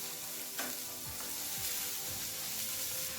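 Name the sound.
vegetables sizzling in a pan for stew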